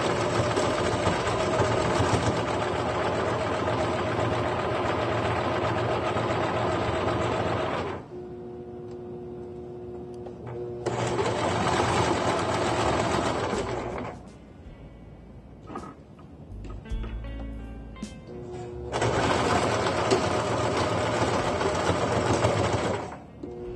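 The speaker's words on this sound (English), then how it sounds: "And we are stitching this on a 1/4 inch seam." A sewing machine stitches a fabric face mask along a quarter-inch seam in three sustained bursts of fast, even whirring, separated by quieter pauses filled with a low hum and small handling clicks.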